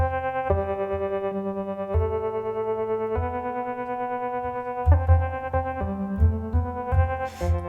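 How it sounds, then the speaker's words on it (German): A KORG NTS-1 synthesizer on its Waves oscillator plays a slow series of sustained notes with a bright, slightly flickering electric-piano-like tone, notes changing every second or so and quicker toward the end, with no voice. "wenn man zum Beispiel hier den Waves-Oszillator nimmt, der so ein bisschen was von einem E-Piano hat"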